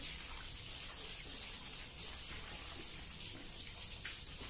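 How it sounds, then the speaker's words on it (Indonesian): Steady splashing and spraying of water rinsing soap off a Suzuki New Smash 110 motorcycle, a continuous hiss of rinsing with no pauses, close by. "Kita siram-siram sambil kita gosok-gosok sisa-sisa sabunnya"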